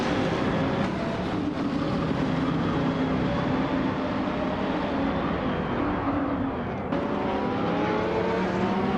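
Racing engines at the start at Monza Jr., a pack led by a 2002 Morgan Aero 8GT 2, drone loud and steady throughout, a dense, continuous roar without talk.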